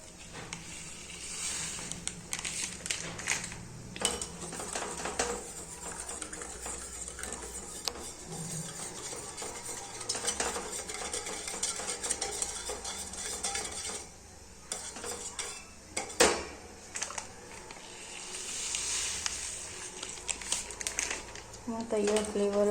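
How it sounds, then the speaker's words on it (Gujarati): Ice cream powder is stirred a little at a time into a mixture, producing repeated soft scraping and swishing stirs against a bowl, with occasional clinks and someone talking over it. "ધીમે ધીમે મિક્સ કરતા જઈશું આપણે નાખીને."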